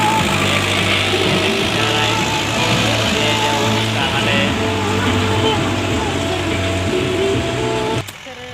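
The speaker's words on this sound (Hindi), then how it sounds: "मेरे सामने जो अभी ट्रैक्टर आ रहा है मेरे पीछे" A tractor working a farm field, with a steady, loud low engine drone and mechanical rumble throughout that cuts off near the end, while a person talks over it.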